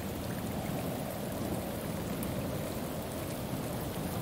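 Steady rain falls in a dark cyberpunk city in the detective game Shadows of Doubt, a dense, even hiss of drops hitting surfaces that continues unbroken, with no voices.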